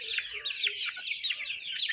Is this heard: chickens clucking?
yes